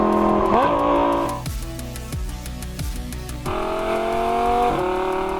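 A rear-wheel-drive Lamborghini Gallardo Balboni revs hard, then the engine drops away into a series of sharp crackles and pops before it climbs back up. The sound is loud and close, and the note rises again with a shift near the end.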